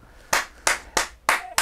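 A single person claps four sharp, evenly spaced times at close range in a quiet room, each clap crisp and loud with short gaps of near silence.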